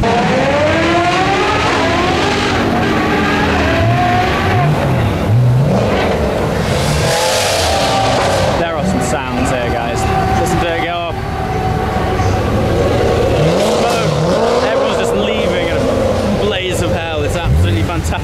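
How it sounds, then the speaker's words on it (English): Racing cars roar and rev at a busy race event, with engines rising and falling in pitch and sweeping past, loud and continuous, under talk. "There's cars everywhere, smoke, noises, engine"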